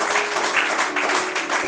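Church congregation applauding and cheering during a sermon, a dense steady wash of clapping that holds at an even level throughout without pauses.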